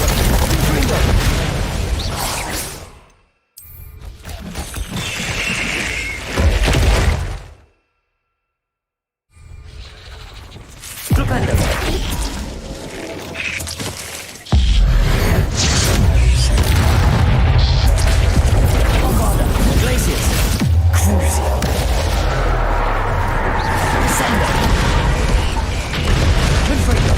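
Spell blasts and explosions during combat in the video game Hogwarts Legacy: a long run of loud booming bursts, whooshes and crashes that layer into a dense, continuous roar, broken by a brief near-silent gap, with voices at times.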